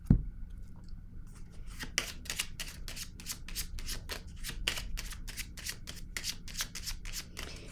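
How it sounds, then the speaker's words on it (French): Tarot cards being laid down and shuffled at close range, a quiet run of quick, crisp riffling snaps repeating steadily against a hushed room. "Je vais déposer une autre carte."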